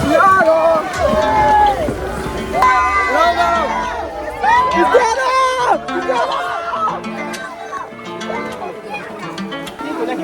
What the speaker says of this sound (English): Look at that crowd of people there just to see the GOAT himself, Cristiano Ronaldo.